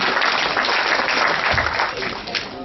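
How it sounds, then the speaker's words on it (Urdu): An audience at a poetry recital applauds, a dense, loud burst of clapping that fades slightly toward the end, with crowd murmur mixed in. "شعر ذرا تالیاں بجا دی تاکہ ان کی حوصلہ بڑھے"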